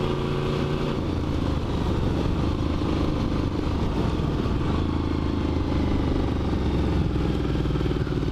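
Honda VFR V4 motorcycle with straight-through pipes and 30-year-old brakes, its engine a steady, loud, dense drone held without pause from start to finish, close up with no talk.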